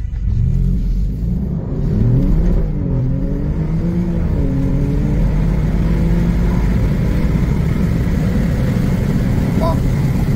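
Alfa Romeo Giulia Quadrifoglio with carbon-ceramic brakes launching in a drag race against a motorcycle, its engine rumbling loud and close, rising through rapid gear changes under a steady roar, with a voice over the engine.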